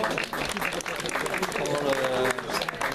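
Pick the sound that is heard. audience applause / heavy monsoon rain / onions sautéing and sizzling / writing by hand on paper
audience applause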